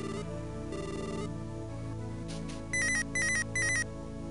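Mobile phone ringing in the video game Mother 3: three short, bright electronic ring bursts sound in quick succession over steady game background music.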